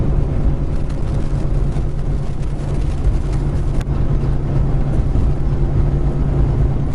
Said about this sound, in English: There's a little more traffic than what I thought there would be